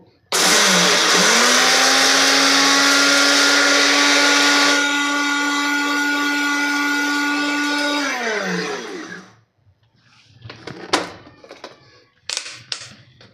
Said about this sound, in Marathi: आता आपल्याला हे मिक्सरला बारीक पावडर करून घ्यायचे आहे